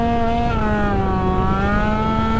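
A street-tuned Yamaha Aerox scooter engine holds a high, buzzing rev on light throttle, a loud, steady whine that swells and dips slightly while staying close and unbroken for the whole stretch.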